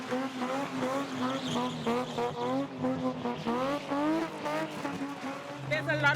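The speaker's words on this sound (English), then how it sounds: "Lady Dali races her car into a street corner and starts the show" A spinning car roars and revs hard at a street corner, its tires squealing in repeated wavering pulses, loud and close, with voices and crowd noise underneath.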